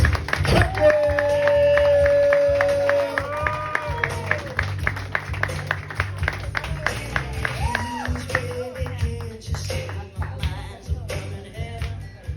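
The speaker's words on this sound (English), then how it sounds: "Start clapping now for your next host, for your next guest, Clarice." A comedy club audience claps and applauds for the next comedian as the host introduces them: sustained dense clapping that thins into scattered claps, with a voice and a sung tone over it.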